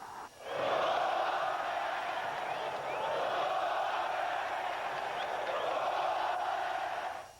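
Stadium crowd roaring after a goal in a 2003 Brasileirão football match, a sustained, broad wall of cheering that swells in quickly and holds steady at a distance throughout.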